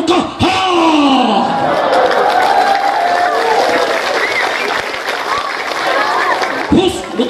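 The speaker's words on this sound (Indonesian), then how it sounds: "Tepuk tangan." Audience applause and crowd noise fill a hall during an Islamic religious lecture, steady loud clapping running throughout with a voice talking over it.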